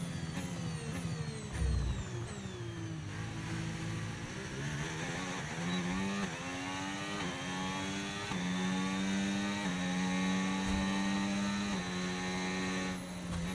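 Video game racing engine drones steadily throughout, rising and falling in pitch as it revs through gears, loud and continuous with no talk over it.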